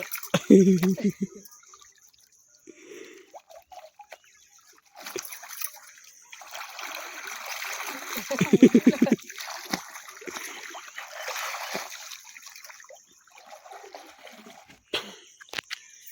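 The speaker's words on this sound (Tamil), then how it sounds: "இன்றைக்கி துவைக்கிறது பார்க்குறீங்க" Clothes being washed by hand in water outdoors, with intermittent splashes and sloshing bursts, a stronger slapping splash near the middle, under a steady background hiss; people talk at times.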